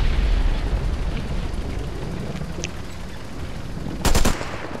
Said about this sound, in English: Firing machine gun, reloading it.